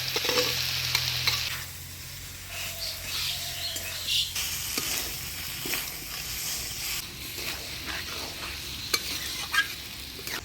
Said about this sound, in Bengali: আলু পটল সোয়াবিন দিয়ে মশলার সাথে ভালোভাবে কষিয়ে নিলাম।